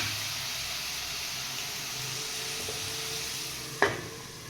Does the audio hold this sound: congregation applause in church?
no